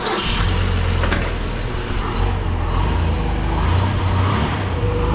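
A 1979 Ford F-250 with a 300 six engine turning over on the starter, a loud, close, steady low mechanical whir and churn that runs throughout.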